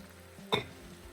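Diced canned tomatoes hit a hot pan with a short, loud sizzling burst, quiet cooking hiss before it and a softer fading sizzle afterward.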